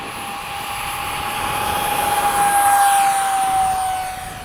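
An FMS 70mm F/A-18 radio-controlled jet takes off at sunset, its ducted-fan whine swelling steadily louder as it spools up and passes fairly near, then easing slightly at the end, with no talking.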